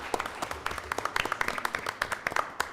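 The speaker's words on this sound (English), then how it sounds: "they deserve a round of applause." A room of people at a county supervisors' meeting gives a round of applause, a dense spread of claps at moderate distance, fairly quiet and steady for the whole stretch.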